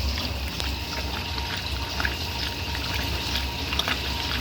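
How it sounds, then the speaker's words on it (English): The pump of a 1964 Speed Queen A49 washing machine moves water during a wash cycle of work pants. It makes a steady, close whooshing and gurgling churn with a low mechanical hum beneath, and no one speaks. "And that pump's starting to get some of that, more of that water right now."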